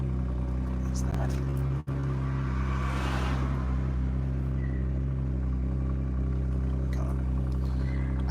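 A modified car engine idles with a deep, heavily droning exhaust and then revs briefly, loud and steady through a played recording, with a person talking over it.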